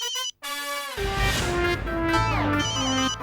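A mobile phone ringtone plays loudly and close, a bright melodic tune with a brief pause before it resumes and keeps ringing continuously.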